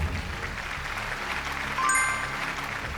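An audience at a Modicare seminar claps steadily as a dense, moderately loud patter, with a brief bright chime ringing out partway through.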